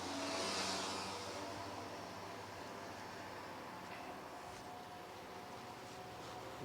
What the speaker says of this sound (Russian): О, КамАЗ он едет снизу с пляжа. Поднимается наверх.